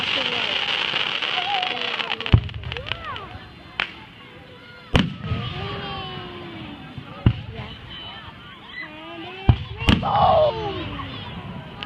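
Fireworks burst outdoors at night in several sharp, loud bangs scattered over the span, with crackling and whistling between them while people chatter and cheer throughout.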